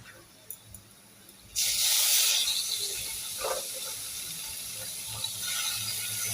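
Onion hits hot mustard oil in a pan for a small-fish curry, bursting into a loud, sudden sizzle that keeps hissing steadily, with a faint clink or two before it starts.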